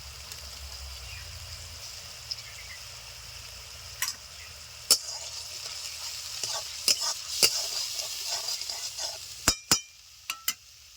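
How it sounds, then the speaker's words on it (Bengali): Ground cumin, dry chilli and turmeric fry in hot oil in a pan for a Bengali bata fish curry, a soft steady sizzle broken by several sharp clinks and scrapes of a stirring spoon against the pan. "মশলা ভালো করে কষে নিয়েছি তেলটাও ছেড়ে দিয়েছে"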